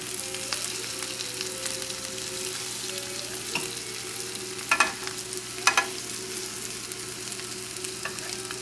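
Flour and butter cooking together into a roux in a pan for Shrimp Newburg, a soft steady sizzle close by with a few brief louder scraping stir bursts, no talking.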